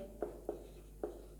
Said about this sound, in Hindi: अब यहाँ पे मैं लिखता हूँ माइटोकॉन्ड्रिया